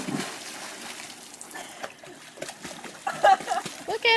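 A child splashing into a swimming pool, with scattered water splashes and dribbles of varying loudness, getting stronger toward the end, while people talk and call out nearby.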